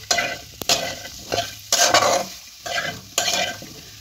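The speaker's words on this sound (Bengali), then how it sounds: "এবার মশলাটা ভালোভাবে আমি কষে নেব নেড়ে চেড়ে।" Spice paste of Kashmiri chilli, cumin and coriander powders fries in a pan for a kohlrabi curry, with four or five loud, rhythmic stirring scrapes over a crackling sizzle, close and without talk.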